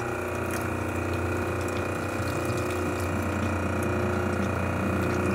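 A portable truckmount carpet extractor pump runs continuously, recirculating descaling water through a heavily scaled machine, giving a steady mechanical whir and hum with faint rattling and no speech.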